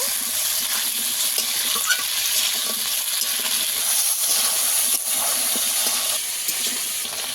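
Potato pieces fry with salt in a pan, giving a continuous loud hiss and sizzle with a few faint stirring scrapes, close up and with no talking.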